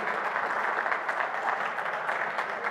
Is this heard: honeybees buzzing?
no